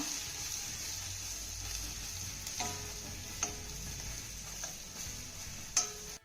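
A tomato, chili and sambar masala mixture being stirred in a pan, with a steady low sizzle and a few faint spoon taps and scrapes against the metal, close and quiet.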